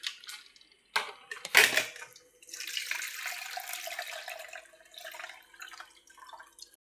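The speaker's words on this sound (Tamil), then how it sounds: "புளியை கரைச்சி ஊற்றிக்கிடுவோம்." Dissolved tamarind water is poured into a fish curry in a home kitchen: a sharp splash, then a steady liquid stream running for several seconds and tapering off, with no talking.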